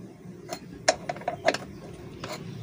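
Wrench work on a bolt at a Daihatsu Gran Max throttle body, giving a few short ratcheting clicks and metallic ticks near the tool, in light bursts with quiet gaps and no talk.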